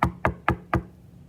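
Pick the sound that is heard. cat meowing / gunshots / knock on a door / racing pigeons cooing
knock on a door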